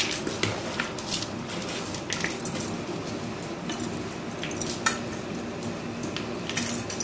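A sweet Tirupati laddu mixture with raisins and rock sugar is tipped onto a metal plate and scraped with a spoon, giving steady close clinks and scrapes with no voices.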